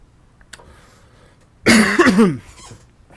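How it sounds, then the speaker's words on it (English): One sharp, harsh cough bursts out after a quiet stretch, then fades back to near silence. "Ooh, got a cough."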